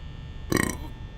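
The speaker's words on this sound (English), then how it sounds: "Ooh, listen to that burp." A single short, loud burp bursts out close to the mic and fades within about half a second, with faint background noise around it.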